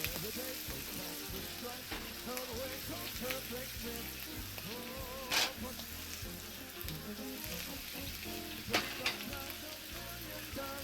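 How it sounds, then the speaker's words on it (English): Small capers frying in hot oil in a pan, a dense steady sizzle with scattered tiny pops and a couple of sharper crackles, close and fairly quiet. "dry out the capers until we hear them pop a little"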